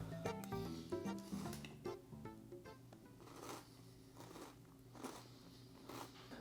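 Reese's Puffs cereal eaten with International Delight iced coffee, heard as close, crisp crunchy bites and chewing that fade into softer, wetter munching.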